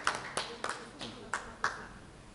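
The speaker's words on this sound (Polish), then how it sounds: "Ogromne brawa również dla tych członków rad sołeckich" Scattered applause at a village council session honouring village council members, a few people clapping in short separate bursts, fairly faint and sparse in a room.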